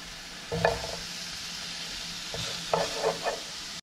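Chopped purple onion and garlic frying in extra virgin olive oil: a continuous soft sizzle with a couple of clusters of brighter crackling spits and stirring scrapes, close and steady with no voices.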